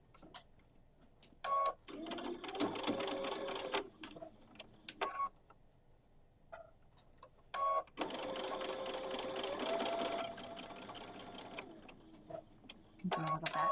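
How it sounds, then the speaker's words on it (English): Sewing machine stitching a quilt seam on a Rhode Island lighthouse block, running in two long bursts with short stitching taps between them, close and steady, with no talking. "And now I'll sew the rest of that seam."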